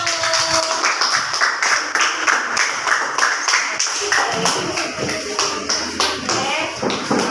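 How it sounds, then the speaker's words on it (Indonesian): Classroom applause for a student group presenting circuits, a stretch of scattered, uneven claps from a small group of students, fairly close, with voices murmuring underneath. "beri tepuk tangan buat kelompok 1"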